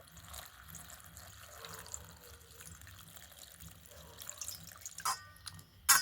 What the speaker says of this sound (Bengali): এবার এগুলো একটু ভালো করে জল দিয়ে ধুয়ে নেব